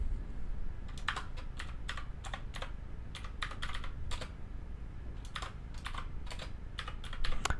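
Quick bursts of typing on a computer keyboard, close and clear, with irregular clusters of key clicks separated by short pauses over a low background hum.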